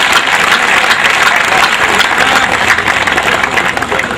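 A large audience breaks into loud, sustained applause for a speaker, Dr. Uday Pratap, at a Hindi-language gathering. The clapping is thick and continuous, close and full, with no voices over it.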